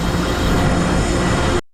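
A heavy three-engine freight train rolls past in the Khandala ghat in a continuous loud rumble and roar of wheels, steady throughout before cutting off suddenly.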